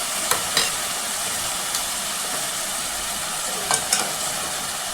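Ginger paste is being stirred into goat leg curry frying in a pan, giving a steady close sizzle with a few sharp scraping stirs near the start and again toward the end.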